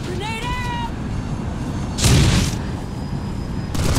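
A grenade blows up in the Planetside 2 video game with one loud, short blast about two seconds in, set amid game noise and a brief tonal beep.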